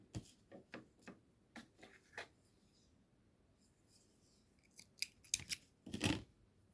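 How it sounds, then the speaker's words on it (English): Scissors snip through yarn while finishing a crocheted flower center, a series of close, crisp cuts in two bursts separated by a short pause, with no talking. "make 1 chain and cut the"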